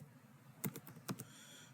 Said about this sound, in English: just bear with me as I'm typing.